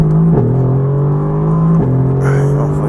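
A Mercedes-AMG GT R on cold tyres pulls hard on a Nordschleife taxi lap at the Nürburgring, its steady in-cabin engine drone dipping twice in pitch at gear changes before climbing again.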